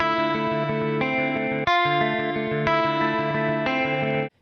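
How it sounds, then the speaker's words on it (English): A clean electric guitar through a chorus effect plays sustained, shimmering chords, four or five struck in even succession and each ringing with a gentle warble, alone and loud with a sharp cutoff at the end. "Sometimes I like to add a chorus effect for a little bit more vibe."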